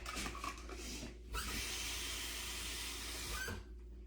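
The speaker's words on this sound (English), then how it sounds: "I gotta wash my hands real quick" A kitchen tap runs as hands are washed during a live home cooking show, a steady soft hissing stream that cuts out briefly and then gushes again before shutting off.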